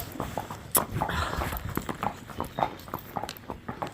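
A horse stamping and pawing the ground out on a ride, irregular hoof strikes near and fairly loud over a rustling background, with sharp knocks scattered across the stretch.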